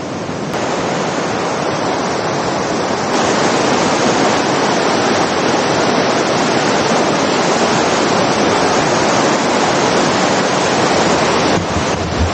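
Pinsal Falls pours down in a loud, constant roar of falling water, close and unbroken, with some wind buffeting and no one talking.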